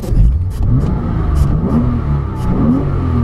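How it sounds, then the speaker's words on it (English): A Porsche Cayman 987.1 base engine revs up and settles repeatedly, close and loud, its pitch rising and falling with each throttle blip. "Can we hear how the engine sounds?"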